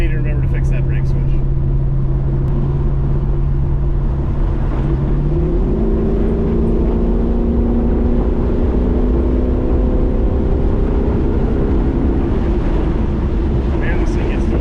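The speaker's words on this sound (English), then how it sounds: "I think that's a pretty successful test drive." A 1966 Buick Skylark fitted with Baer disc brakes cruises on a test drive, its engine a steady loud drone that climbs in pitch midway through as it accelerates, with wind rush throughout and no talking.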